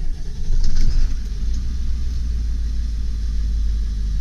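A 1999 Ford E450 Super Duty box truck with a 7.3L PowerStroke turbo diesel and very low miles fires up with a brief louder surge, then settles into a deep, steady, close idle rumble with no talking.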